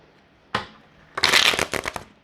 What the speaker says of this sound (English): these cards are hella slippery, so I'm gonna just go ahead and give them an extra shuffle.